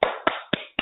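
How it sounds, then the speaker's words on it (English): One person clapping hands as applause, four sharp, evenly spaced claps close by. "I do be clapping for people."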